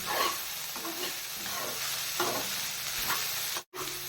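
Chopped banana flower sautéing in oil with turmeric sizzles loudly and continuously in a pan, with faint stirring scrapes through the hiss and a brief cut near the end.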